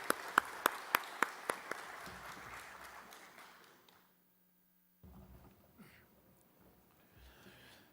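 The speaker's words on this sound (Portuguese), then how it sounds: "Uma salva de palmas para recebermos o representante do Ministério Público." A few loud, distinct hand claps open into brief scattered applause that fades away within a few seconds, followed by near silence and a faint low hum. The clapping welcomes a public prosecutor's representative at a formal Brazilian hearing.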